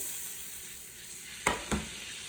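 Olive oil and spices sizzling gently in a hot pan as a tablespoon of oil melts, a steady soft frying hiss with two brief louder crackles near the end.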